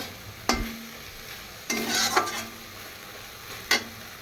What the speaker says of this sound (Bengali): এটাকে আমি ভালো করে কষিয়ে নেব, 1-2 মিনিট ফুটিয়ে নেব।